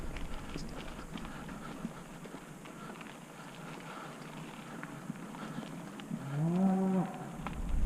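A cow moos once from a short distance near a campsite in an area with cattle, a drawn-out low call rising late, over quiet outdoor background.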